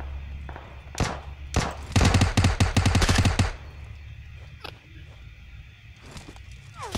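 Rapid bursts of gunfire from PUBG Mobile, a loud fast volley of shots in the middle after a few isolated single shots, then quieter scattered reports; no talk during the firing.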